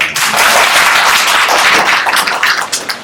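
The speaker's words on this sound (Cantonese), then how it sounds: "大家俾啲掌聲佢" A lecture audience applauding a speaker, dense loud clapping from many hands that fills the room, continuous and tapering slightly toward the end.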